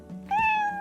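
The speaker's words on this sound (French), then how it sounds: "Un chat." A cat lets out one short, clear meow close by, rising and then holding briefly after a moment of quiet room noise.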